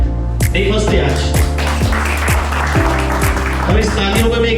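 An audience applauds at a startup gathering in Dubai. Steady clapping continues under a rhythmic, musical beat, with voices mixed in.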